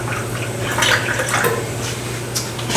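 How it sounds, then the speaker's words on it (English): Water pours into an Instant Pot holding nacho meat, a close, steady splashing fill that runs continuously for a few seconds with slight gurgles. "let me add just a little bit more water here"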